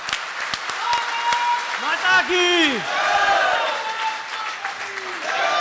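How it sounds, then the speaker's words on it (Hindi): Applause ripples through the audience at a Hindi poetry recital, steady clapping mixed with voices and a brief crowd chant, with a speaker's voice carrying over it. "एक बार इनके लिए जोरदार ताली।"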